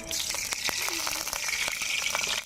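Thankuni (pennywort) leaf fritters drop into hot oil and fry with a loud, continuous close sizzle, with a few sharp spatters and clinks breaking through.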